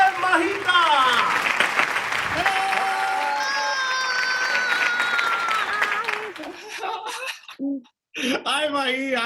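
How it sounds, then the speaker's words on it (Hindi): A studio audience claps and cheers to welcome a celebrity couple onto a talk show set, with music and voices running over the applause before it drops out near the end. "जोरदार तालियों से स्वागत कीजिए"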